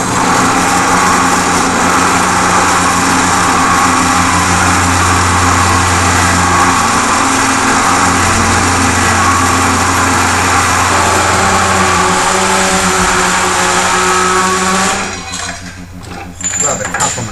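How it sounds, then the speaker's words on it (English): A stainless steel axle sleeve being cut for a racing lawn mower build, a loud continuous high-pitched machine whine with steady grinding texture that holds for about fifteen seconds, then drops away, with someone speaking over it. "Here we're just cutting a sleeve that goes over the axle between the bearing and the hub."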